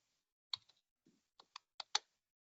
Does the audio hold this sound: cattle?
no